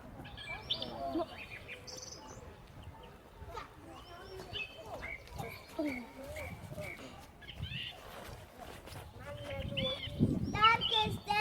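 A strange bird in a forest gives repeated chirps and whistled calls, scattered over a busy background with voice-like sounds throughout.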